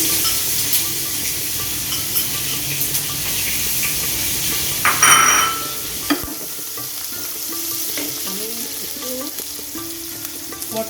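Onion goes into a hot pan in a Bengali home kitchen, bringing a sharp burst of sizzle and hiss. A steady frying crackle follows, with faint clinks of utensils and stirring underneath.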